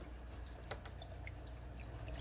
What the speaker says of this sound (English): all you hear is that trickle of water right there